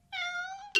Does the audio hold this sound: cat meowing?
yes